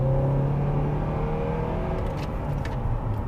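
A naturally aspirated drift car's engine holds a loud, steady rev with a droning tone, close and continuous, alone without talk.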